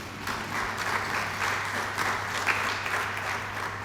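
Audience applause at a university convocation ceremony in Nagpur, a steady, moderately distant wash of many hands clapping with no talk over it.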